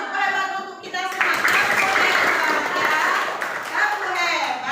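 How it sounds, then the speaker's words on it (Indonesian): A school class performs a rhythmic 'tepuk hebat' clapping cheer, bursts of claps mixed with children's chanting voices, loud and close in a classroom. "Kasih tepuk hebat untuk kita semua"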